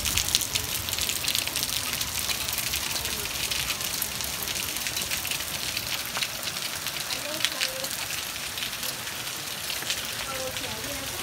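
Heavy hail pours down during a late-night storm, a dense, steady roar of impacts on hard surfaces that holds loud and even throughout, with no talk over it.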